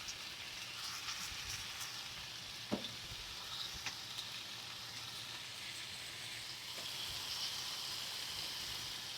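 Six bacon slices sizzle steadily on a Masterbuilt Gravity Series griddle, a fairly quiet, even crackle with a few sharper pops and snaps scattered through it.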